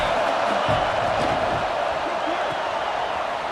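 Football stadium crowd during a third-down red zone play in a Michigan vs BYU game, a dense, steady roar filling the whole stretch at close, loud level with no speech over it.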